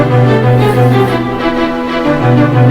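Sustained orchestral strings and low brass from a One Minute Melee soundtrack piece swell together in slow, smooth chords, loud and full with no guitars.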